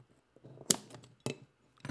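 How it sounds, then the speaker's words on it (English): Scissors snip the tag ends of braided fishing cord after tying a knot, a few sharp, close cuts separated by short pauses in a quiet room. "I have to use scissors because I'm demonstrating this knot for you with braided cord."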